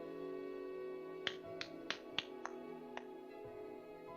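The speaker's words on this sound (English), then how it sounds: "I heard a single clap." Six crisp, sharp claps or snaps ring out one after another at uneven intervals, fairly quiet over a soft background hum.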